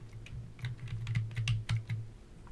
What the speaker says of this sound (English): I'm using the arrow keys in the keyboard